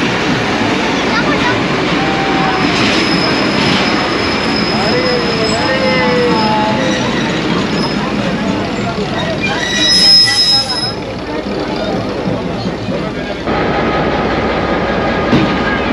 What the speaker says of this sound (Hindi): चौदह डाउन मोहनजोदाड़ो पैसेंजर का इसे क्रॉस पड़ गया है इधर ही सेवन शरीफ रेलवे स्टेशन पर